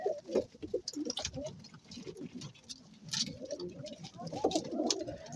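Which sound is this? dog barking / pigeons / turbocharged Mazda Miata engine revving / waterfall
pigeons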